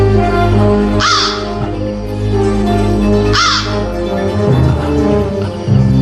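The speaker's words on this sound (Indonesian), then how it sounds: "Engkaukah yang mengirim telur ini padaku, Sang Gagak Perkasa?" A crow gives two loud, separate caws a couple of seconds apart over a steady low ambient drone.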